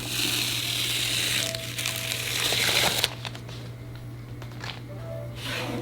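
Tape is peeled up from a patch of Fender tweed tolex, giving a close, rough ripping and crinkling that runs for about three seconds, then softer scraping and handling noises over a low electrical hum.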